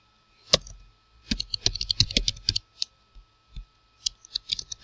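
Password being typed on a computer keyboard, close and crisp: quick bursts of clicking keystrokes, a pause, then another fast run of taps, with no voices.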